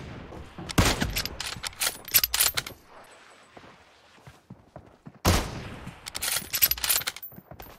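Gunfire in the PUBG Mobile video game during a sniper-only one-on-one match, two loud bursts of rapid shots with sharp cracks, separated by a near-silent pause, no speech.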